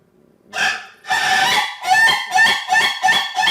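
A laughing chicken rooster crows loudly and close by, a drawn-out call followed by a rapid series of short, rhythmic cackling bursts.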